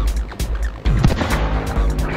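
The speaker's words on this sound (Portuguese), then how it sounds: "E não hesitaram em disparar." Gunfire in a Portuguese-language audio drama about fleeing officers: several sharp, loud bangs with booming low-end tails come in quick succession over a short dramatized sequence.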